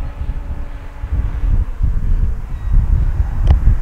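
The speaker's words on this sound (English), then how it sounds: "Boy, that wind." Wind gusts buffet the microphone at a radio-controlled model airfield, a steady low rumble with brief surges and a faint distant whine.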